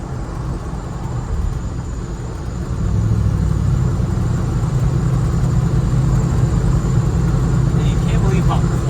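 A swapped Hemi V8 engine in a low-budget truck, a steady loud rumbling drone heard from inside the cab that swells slightly partway through, with people talking over it.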